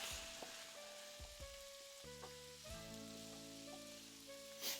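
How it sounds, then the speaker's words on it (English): A stir fry sizzles steadily in a pan and is stirred now and then, a soft continuous hiss with faint scrapes and taps, fairly quiet and steady throughout. "I'm going to give the stir fry a stir."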